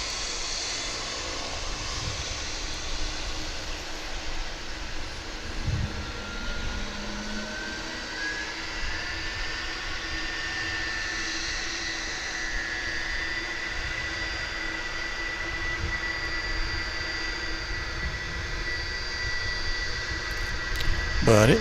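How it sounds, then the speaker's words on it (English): A Boeing 757 departing DFW International Airport for Ontario, California, its jet engines roaring steadily from a distance in a broad, sustained rumble with a rising whine, while occasional voices are heard underneath. "here's the 757 off to Ontario, California"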